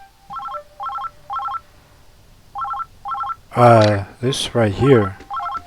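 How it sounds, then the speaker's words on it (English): An in-game telephone rings in Oxenfree II with repeated bursts of rapid electronic trilling tones. A voice speaks briefly over the middle of the ringing before the trill returns. "Let's answer the phone"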